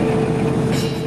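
A train hauled by a single locomotive passes with a loud, steady rumbling roar and a droning engine tone, close and continuous, with no voices.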